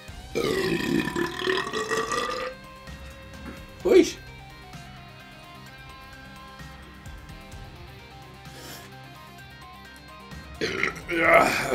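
Loud, close burps follow tastings of long drinks. A long burp opens the clip, a short one comes midway and a final burst sounds near the end, with talking in between.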